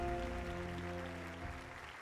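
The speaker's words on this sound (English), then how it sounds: "That applause sounds fake." Applause from the video game Octopath Traveler, a steady synthetic crowd clapping that holds throughout, laid over a sustained tonal music bed with low hum.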